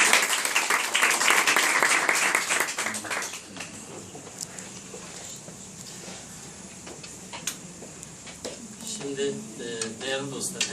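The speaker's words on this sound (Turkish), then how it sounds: "E, Sayın Vekilimizi bir alkışlarınızla" Audience applause at an award ceremony in Turkey, a fairly loud burst of clapping at the start that fades into scattered claps, with a man then beginning to speak over light room noise.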